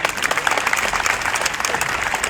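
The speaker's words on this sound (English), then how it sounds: "Give yourselves a round of applause." Graduates at a commencement ceremony give a brief, dense round of applause, steady close clapping from many hands with no talking.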